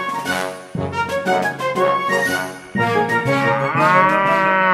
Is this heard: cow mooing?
yes